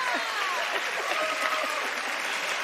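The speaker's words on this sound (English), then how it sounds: "Keep clapping, a little louder is always good here" A studio audience at a daytime TV talk show claps steadily, a dense wash of hands held at an even level with faint voices mixed in.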